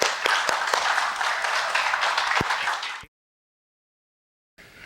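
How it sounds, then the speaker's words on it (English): An audience applauds for a speaker at an asteroid research talk, with dense, steady clapping that cuts off abruptly into silence before a faint return. "So if we can give him a round of applause."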